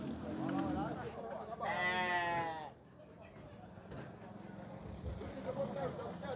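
A sheep or goat lets out one drawn-out, wavering bleat at a traditional livestock fair in Puxinanã, Paraíba. People talk in the background under a steady crowd murmur.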